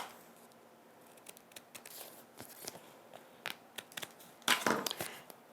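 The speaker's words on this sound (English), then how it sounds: "And then we can trim off our ends." Scissors trim the ends of a die-cut craft card, giving scattered close snips and paper rustles that turn into a louder crinkling burst near the end, quiet and without talk.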